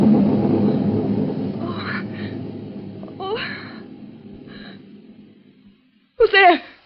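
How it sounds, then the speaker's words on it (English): A low rolling rumble of thunder in a suspense radio drama swells loudly at first, then fades slowly over several seconds, with brief voice-like sighs and gasps over it and a short burst of voice near the end. "It was only thunder."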